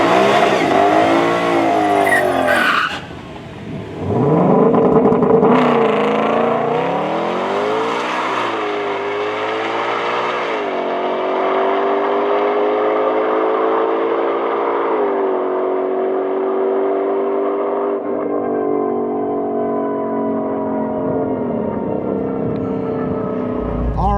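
A Ford Bronco on a drag run, the engine revving hard and loud, climbing in pitch through several gear changes, then settling into a long sustained roar as the truck speeds away.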